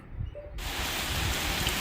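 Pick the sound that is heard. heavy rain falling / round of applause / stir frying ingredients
heavy rain falling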